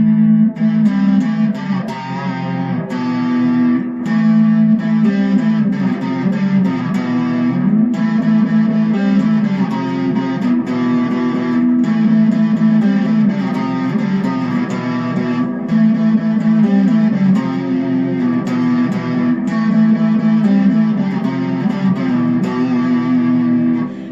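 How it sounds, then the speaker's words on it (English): Electric guitar riff played through a distortion pedal, loud and sustained with a thick, gritty repeating pattern throughout, alone with no talk. "Now let's see how that same riff is affected by distortion."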